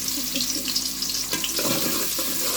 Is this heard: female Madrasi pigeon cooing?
no